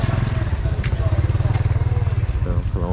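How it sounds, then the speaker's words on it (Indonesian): Motorcycle engines putter and rumble loudly through a busy street market in Batam, a continuous close pulsing drone with people talking over it. "Oh, banyak motor ya."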